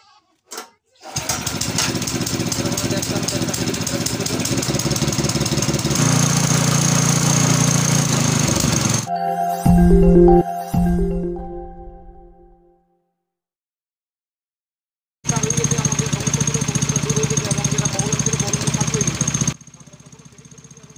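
Honda GK 200 water pump engine pull-started and running, a loud close buzzing putter that drops out, sputters briefly, falls silent, then roars back steadily before cutting off.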